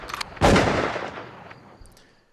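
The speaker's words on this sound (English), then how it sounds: "And then you end on the gunshots." A single loud gunshot from the end of a song, a sharp blast with a long fading tail, preceded by a faint brief sound and followed by a quiet high ringing.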